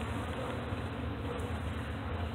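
A swarm of honeybees hums in a dense, continuous buzz that holds steady and fairly close throughout, with no voices.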